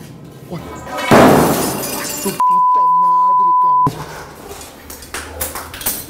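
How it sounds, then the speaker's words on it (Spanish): Glass shatters during a paranormal investigation in a morgue: a sudden loud crash, then excited voices talking close by, partly covered by a steady electronic beep. "me saltaron aquí los vidrios, Luisa"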